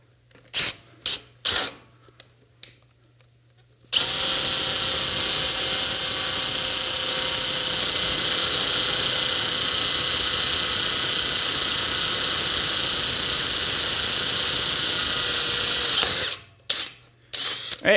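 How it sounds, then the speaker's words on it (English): A power drill bores a 1/4 inch bolt hole through a tube on a chassis with a loud, steady high whine for about twelve seconds, framed by short start-stop bursts before and after. "that first hole we had a lot to drill through"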